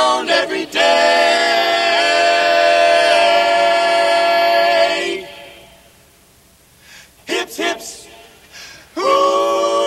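A barbershop quartet of human voices imitates a train on stage, sustained harmonized chords like a whistle lasting several seconds, then a quiet pause and short chuffing bursts before the chord returns, loud and close.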